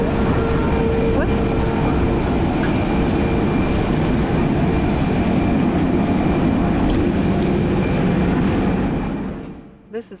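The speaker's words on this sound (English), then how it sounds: "This is my first time flying on South African Airlines." Inside a South African Airways airplane cabin in flight, a loud, steady broadband engine and air roar fills the space, constant throughout before fading at the very end.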